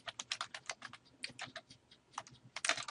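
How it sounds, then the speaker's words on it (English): Fast typing on a computer keyboard while entering text, with clusters of close, crisp key clicks in an irregular rhythm and short pauses between bursts, with no talking. "Type your first name, last name."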